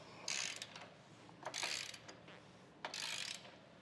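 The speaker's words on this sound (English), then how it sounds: "Now our large bolt is going to be a 15/16 on the nut, so we'll get that snugged down." A socket ratchet tightens the nut on a large 15/16 bolt of a Curt front-mount trailer hitch on a 2015 Toyota, making three quick bursts of close, crisp clicking separated by short pauses.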